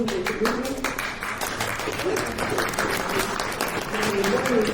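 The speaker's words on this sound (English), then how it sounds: "These folks really deserve your applause." Audience applause for a panel at a county climate summit fills the room, a steady dense wash of clapping with voices mixed in underneath throughout.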